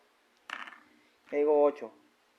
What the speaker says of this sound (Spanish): si yo tiro los dados y caigo 8